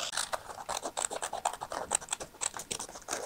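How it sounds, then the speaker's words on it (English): Scissors cut paper for a Breakfast at Tiffany's journal spread, making a quick run of close, soft snipping and scratchy rasps in an irregular rhythm. "You will cut like this."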